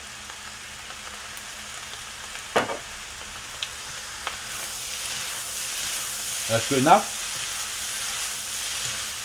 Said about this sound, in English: every toss you make is nice and sizzle sound.